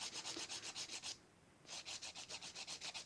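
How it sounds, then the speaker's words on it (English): Rapid back-and-forth sanding strokes on the edges of a small polymer clay cameo, a quick steady rhythm that pauses for about half a second, then resumes. "you can go back to sanding the edges"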